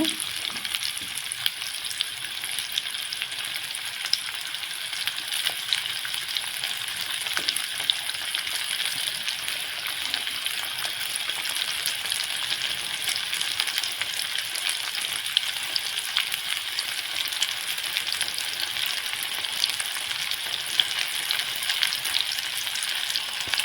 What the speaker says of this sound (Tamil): நல்லா ஹை ஃப்ளேமில் வச்சு நல்லா வெங்காயம் வணங்க விடுங்க